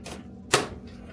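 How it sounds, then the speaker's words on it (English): A knife dices onions on a cutting board, giving a few crisp chopping taps with one sharper, louder chop in the middle. No one talks. "This is how I usually dice onions now."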